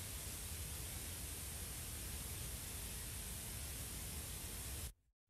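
Steady synthesized broadband noise tilted toward the high end, hissing continuously at an even level for about five seconds before cutting off abruptly into near silence.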